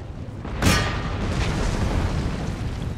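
A single cannon blast from the Napoleonic-era strategy game Empire: Total War, fought during a siege of Venice, booms sharply and then fades into a steady background rumble of battle.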